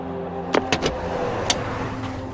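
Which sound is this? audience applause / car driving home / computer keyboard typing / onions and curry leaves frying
car driving home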